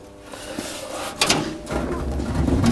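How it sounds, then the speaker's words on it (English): Heavy old rusty car door being trial fitted during a rebuild, with scraping, sliding metal contacts and a few knocks and clunks growing louder as it is maneuvered into place, close by with no talk. "let's trial fit the door. Hopefully it fits."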